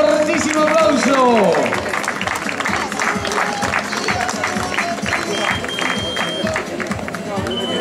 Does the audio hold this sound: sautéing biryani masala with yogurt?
no